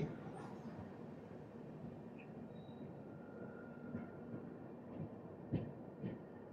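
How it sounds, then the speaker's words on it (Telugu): A train on the opposite track rumbles past a double-headed Duronto express on the Bikaner to Sealdah route, with steady rolling noise, faint squeals and a few louder clunks of wheels over joints. "మనకు ఆపోజిట్లో ఒక ట్రైన్ వస్తుంది."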